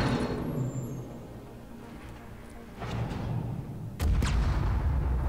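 A heavy explosion in the PC shooter The Division, a sudden loud blast near the end that leaves a deep roar, following a steady low rumble of in-game ambience.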